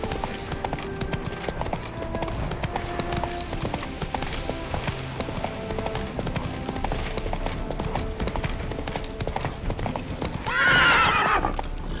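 Roach, a horse in The Witcher 3, clip-clops in a steady, rhythmic gallop throughout, with a loud neigh near the end.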